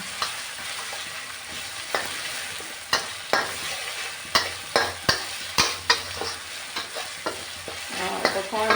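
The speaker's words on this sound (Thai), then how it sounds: "ใส่พริกที่โขกกับกระเทียมไว้นะคะลงไปนะคะ" Pounded chili and garlic stir-fry in a lightly oiled pan, a steady sizzle broken by repeated sharp scrapes and clacks of a spatula in a quick, uneven rhythm, with no talking.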